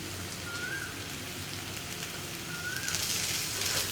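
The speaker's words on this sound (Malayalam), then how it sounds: "ഇനി ഈ മുട്ടയും കൂടി ഈ മസാലയിൽ കിടന്നിട്ട് ഒന്ന് വഴറ്റിയെടുക്കുക" Boiled eggs sautéing in a masala for a creamy egg curry, a steady soft sizzle and crackle from the pan that carries on evenly and faintly, with no one talking.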